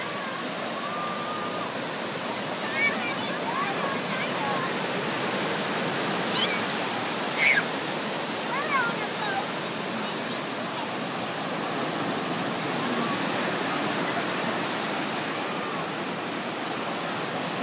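Ocean waves wash in at Butterfly Beach in Santa Barbara, a steady broad roar of surf with a few faint distant voices and brief chirps over it.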